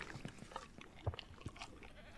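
Goats in the farming game Ranch Simulator bleat in short, nasal calls, several scattered bursts overlapping at moderate volume over a low background hum.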